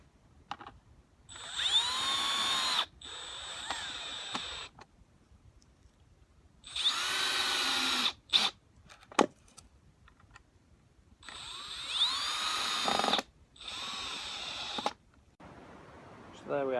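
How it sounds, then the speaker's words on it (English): A power drill drives screws into a piece of wood during a muck spreader modification, in several loud bursts of high whine a second or two long, separated by quiet pauses and a few short taps. "screwed onto my piece of wood"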